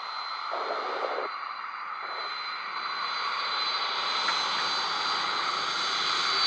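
A Cargo Jet aircraft holds on the runway with a steady jet-engine roar and a thin high whine that swells gradually, continuous and fairly close, with no talk over it.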